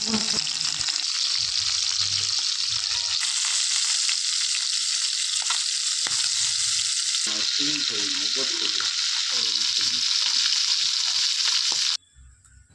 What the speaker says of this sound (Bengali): সর্ষের তেল ধোয়া ওঠা পর্যন্ত গরম করে মাছ হালকা সোনালি করে ভেজে তুলে নেব